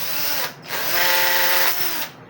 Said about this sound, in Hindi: ये ड्रिल मशीन की मदद से,